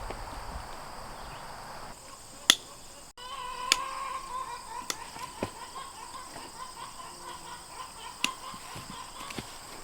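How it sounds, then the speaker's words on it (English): Chickens on a homestead clucking and squawking loudly in repeated sharp bursts, close by, with other farmyard noises around them. "Boy, these chickens are loud."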